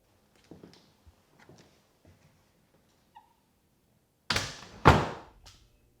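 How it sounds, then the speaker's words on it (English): A door swings shut with a sharp thud and slam near the end, following a few faint scuffs and small knocks in a quiet room. "Close the door, Mr. Rick."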